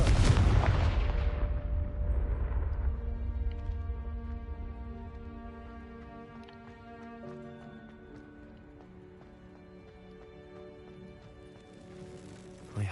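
A Confringo spell blast in Hogwarts Legacy: a loud explosive burst opens the moment, then fades into ringing, sustained musical tones that linger quietly to the end.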